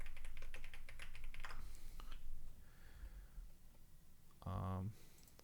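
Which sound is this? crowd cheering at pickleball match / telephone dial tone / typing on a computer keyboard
typing on a computer keyboard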